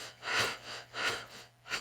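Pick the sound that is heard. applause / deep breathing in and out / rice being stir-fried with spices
deep breathing in and out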